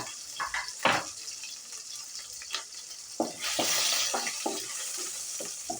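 Onion sizzling and frying in a pan while chowmein is cooked, with a steady hiss broken by scrapes and stirring clatters that swell louder midway.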